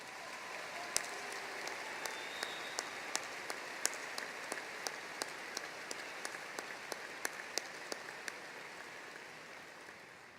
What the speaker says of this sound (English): Let's all give Desiree a big round of applause.